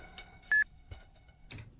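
A single short electronic beep, clear and close, sits among faint scattered clicks and soft noise.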